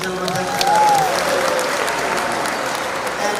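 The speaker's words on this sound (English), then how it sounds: "A round of applause, ladies and gentlemen." An audience applauds at a public launch event for a football challenge cup, a broad, continuous wash of clapping from a large crowd, with a brief whistle-like tone rising over it early on.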